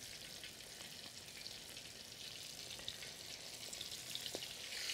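Oysters deep fry in oil on a plow disk over turned-down heat, a soft, continuous sizzle and crackle with occasional pops, close and fairly faint.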